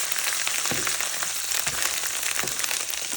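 Chorizo sizzling and frying in a non-stick pan, a steady crackling hiss with a few soft scraping stirs, close and alone.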